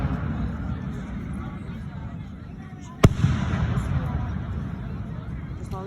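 During a 2025 fireworks show, one sharp loud firework bang cracks out amid the constant murmur of a chatting crowd, followed by a brief rumbling echo.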